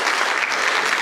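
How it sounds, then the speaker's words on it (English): A lecture audience at a Big Bang painting and theory event applauds, a dense, steady wash of many hands clapping close and loud throughout. "How about one more round of applause for our good friend, the physicist?"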